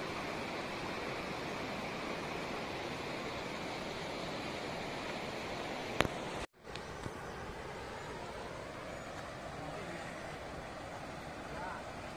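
A waterfall pours heavily near Idupulapaya in Kadapa district, a dense, steady roar of falling water throughout, cut by a short bump and dropout midway.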